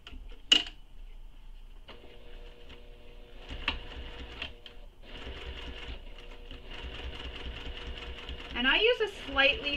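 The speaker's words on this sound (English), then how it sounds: "So now we're going to sew this little box all the way around." A sewing machine stitches around a small box on a crossbody bag in short runs with pauses between them, a steady mechanical whirring close by, while a person talks over it.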